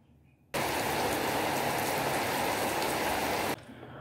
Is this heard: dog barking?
no